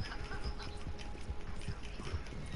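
Horse hooves clip-clop in Red Dead Online in a steady rhythmic trot, moderately close, with no talking over the hoofbeats.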